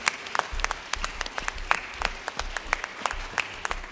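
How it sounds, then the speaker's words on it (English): A congregation at a contemporary worship service breaks into applause, with distinct, crisp claps in an uneven rhythm over a lighter background wash, fairly close and lively throughout. "Can we give a big round of applause for Jesus today?"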